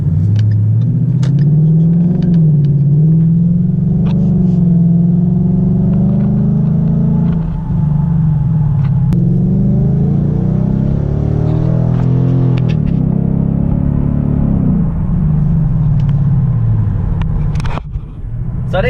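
A car engine fitted with a BAMA REV X tune rumbles steadily and close by, the pitch rising and falling with throttle changes over a long stretch, heard alone with no talk.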